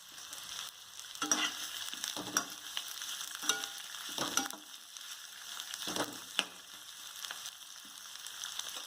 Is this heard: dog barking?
no